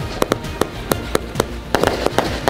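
A 300-shot fireworks cake crackles and pops in rapid, uneven bursts on New Year's Eve, a dense series of sharp explosive bangs with no voices.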